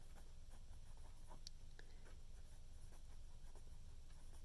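A pen scratches on paper in short, faint strokes against a quiet room hum, with brief taps and pauses between the marks.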